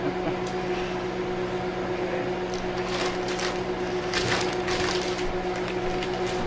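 A microwave oven hums steadily while melting butter for Rice Krispie squares, a constant mid-level drone with faint clicks and rustles over it and no talking.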